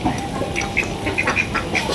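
Ducks quack repeatedly in short bursts over a steady outdoor background, several calls spaced through the clip at moderate distance.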